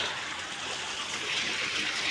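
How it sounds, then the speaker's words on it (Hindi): A stream used for washing clothes flows with a soft, continuous rushing and trickling at moderate distance, steady throughout without voices. "तो ये रहा हमारा पानी का नदी, जहाँ पानी का स्रोत है"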